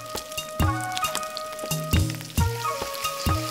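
Turmeric, salt and chili powder sizzle in a hot frying pan as crab pieces are cooked, with steady frying hiss punctuated by several sharp clanks of a stirring utensil against the pan.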